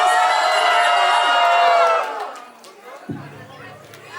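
At a ring ceremony, a crowd of guests cheers and whoops together in a loud, sustained roar that fades after about two seconds, followed by quieter chatter and a voice.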